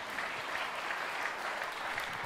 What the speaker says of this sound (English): feel free to give a round of applause to the candidates as well